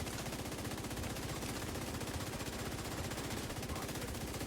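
Sustained automatic gunfire in The Division 2 against a tanky boss, a dense continuous rattle of rapid shots that fills the whole stretch at steady loudness.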